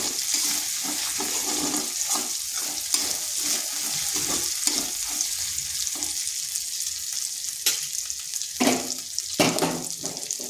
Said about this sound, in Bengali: এরপর আদাটা একটু ভেজে নিচ্ছি যাতে তার কাঁচা গন্ধটা চলে যায়